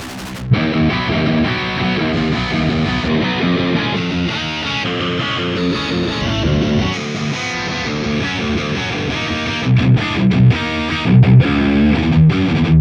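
A distorted electric guitar plays steadily and loudly through a Laney Ironheart IRT Studio amp with cabinet emulation switched off, giving a raw, dry, fizzy tone, with no talking.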